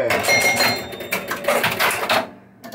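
Rapid ringing chimes and mechanical clatter from a 1974 Williams Skylab pinball machine fitted with Gottlieb chimes, a dense close burst of bell tones and rattling that cuts off near the end.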